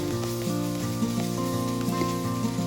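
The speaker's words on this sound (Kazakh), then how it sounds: "Орам жапырақты да жақсылап қуырып алған соң, картопты салып, толықтай қуырамыз" Potatoes and cabbage fry in a pan, producing a continuous soft sizzle with faint crackles and small pops throughout, steady and fairly quiet without any voices.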